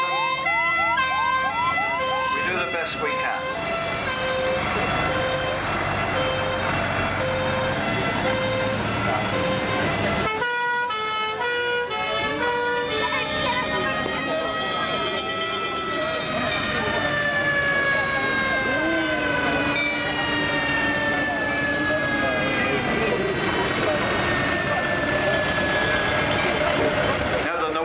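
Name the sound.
1971 Range Rover ambulance siren at a transport rally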